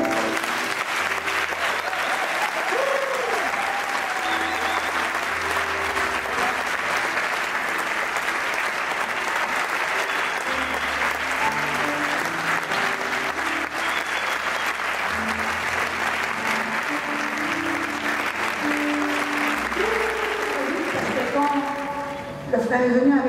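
A church congregation at a Congo mission gathering applauds in a long, loud, steady roar of clapping that carries on for the whole stretch, with voices mixed in underneath.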